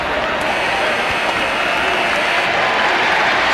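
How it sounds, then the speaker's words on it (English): Arena crowd at a 1994 NBA playoff basketball game applauding, a loud continuous roar of clapping and crowd noise with faint voices mixed in. "the applause is for Kenny Smith"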